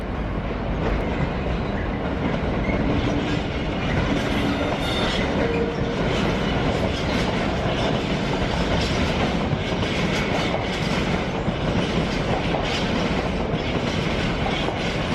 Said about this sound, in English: there's that freight coming down the track